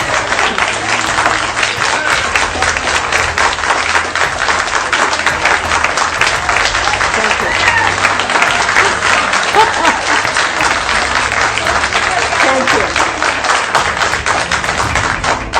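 A packed audience at a political gathering on Muslim representation keeps up sustained, loud clapping with rapid hand strikes and crowd murmur, holding steady the whole time.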